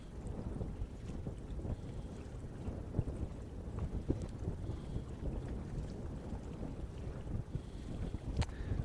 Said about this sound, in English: And now here comes the wind.